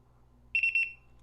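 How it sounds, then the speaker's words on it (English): A Rokkit RV smart lock gives its factory-reset beep: one short, close, high electronic tone with a slight pulsing warble that fades quickly against a quiet background. "So that's the exact same beep that you should hear when you reset the and program the key fobs."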